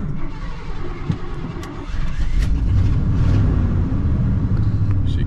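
A 1987 Ford F150 pickup engine, converted from EFI to a carburetor with an HEI distributor and missing motor mount bolts, cranks briefly and then catches, settling into a louder steady close idle rumble.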